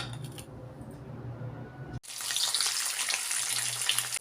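Four turmeric-and-salt-rubbed fish pieces sizzle in a kadai, a sudden loud hissing fry bursting in after a quieter stretch and crackling steadily on its own.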